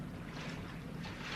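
Diesel boat engines in a radio drama sound effect rumble as a steady low drone under broad wash-like noise, quiet and unbroken with no voices.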